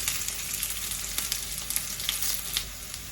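Onions frying in hot coconut oil for a tempering, a dense, steady close sizzle with small crackles and occasional stirring, heard alone without talk.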